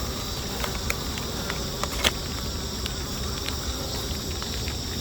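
Honeybees buzz steadily throughout, a dense swarm drone with occasional faint ticks and taps, and no voices, as a swarm is hived with its queen in the rain.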